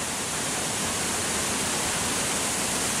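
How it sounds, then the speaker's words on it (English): A loud multi-step waterfall at Doi Inthanon National Park in Thailand, a dense, steady roar of falling water close by with no break or other sound. "It's very, very loud but very spectacular as well. It's a lot of water coming down there."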